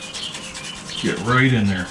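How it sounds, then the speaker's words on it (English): Hands work dry seasoning rub over the meat of a whole suckling pig, a close, steady scrubbing and rubbing texture, with a person speaking briefly over it near the end. "Right now we're just trying to hit all of the meat with this rub."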